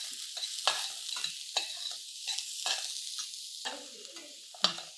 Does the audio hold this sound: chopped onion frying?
yes